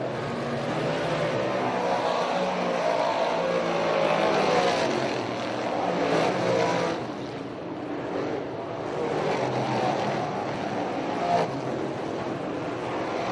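Race cars circle the hard clay speedway at Orange County Fair Speedway, a dense, steady engine roar from a distance that swells and dips as the field passes.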